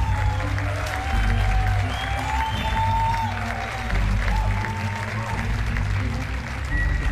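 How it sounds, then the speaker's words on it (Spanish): A studio audience on a Chilean television show applauds steadily, dense clapping at even strength throughout, with a low musical bed and faint voices underneath. "Quiero pedir un gran aplauso para Scarlett."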